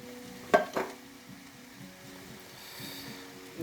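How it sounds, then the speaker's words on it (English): Two tins of chopped tomatoes go into a pan, a sharp clank and a wet plop up front followed by soft bubbling and low stirring sounds, fairly quiet. "Going to add 2 tins of chopped tomatoes."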